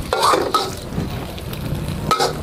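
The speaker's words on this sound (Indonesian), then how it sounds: "Goreng garing telur sekali selalu." An egg fries in a pan with crispy shallots for nem fried rice, giving a close, steady sizzle mixed with stirring and the scrape of a utensil on the pan.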